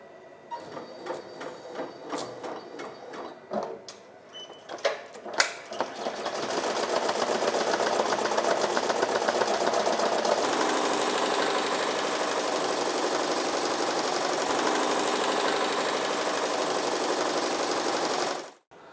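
A BAi Mirror embroidery machine stitches a hat, starting with sparse clicks and taps, then settling into a steady, loud, rapid mechanical whir of needle strokes that runs for over ten seconds before stopping abruptly.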